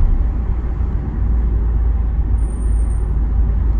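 City traffic in Croydon, London, heard as a steady, loud, broadband rumble of engines and road noise, with a faint high tone near the middle and no voices.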